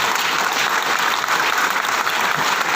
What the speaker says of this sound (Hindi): एक जोरदार ताली हो जाए हमारे सारे क्राउन डायरेक्टर